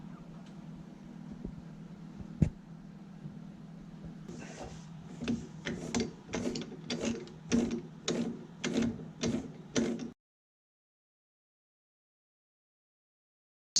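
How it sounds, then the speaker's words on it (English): A metal lathe turns down a welded snowmobile shaft with a low hum, then a regular series of about a dozen clicking, ratcheting mechanical pulses before the sound cuts off abruptly. "So I got to turn that down on a lathe."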